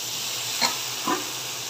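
Eggplant pieces drop into a pan of potatoes already frying in oil, giving a steady low sizzle with two brief soft bursts as they land.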